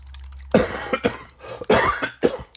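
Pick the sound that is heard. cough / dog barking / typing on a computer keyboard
cough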